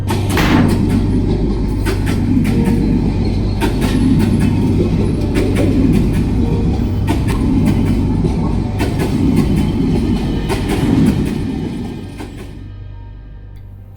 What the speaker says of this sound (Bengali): ট্রেনের শব্দ ধীরে ধীরে জোরে শোনা যাচ্ছে